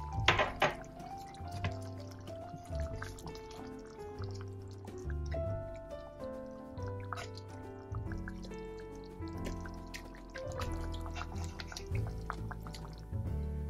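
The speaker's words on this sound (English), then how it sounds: "I poured the sauce back into this container" Salisbury steak sauce is poured back into the container that held the broth, giving a faint, steady stream of drips and trickling liquid that runs on throughout without talk.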